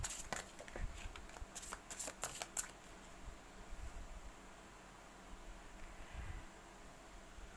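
Cards being shuffled for a tarot reading: a brief run of quick riffling flicks near the start, close and soft, then a faint steady room hiss with no talking.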